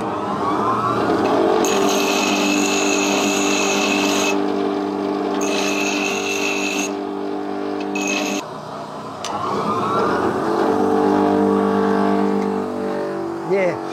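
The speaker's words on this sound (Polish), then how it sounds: "Tu szlifiera jest, no nie? Pokażę, że jest." An angle grinder runs steadily with a loud whining, rasping drone, near a hand-made knife. High-pitched bursts rise and fall as it works, briefly dipping then resuming, with no speech over it.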